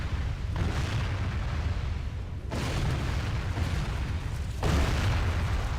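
Catapult bombardment in Medieval II: Total War, heard as three heavy booming impacts spaced a couple of seconds apart, each a broad crashing burst that decays into a continuous rumbling battlefield din.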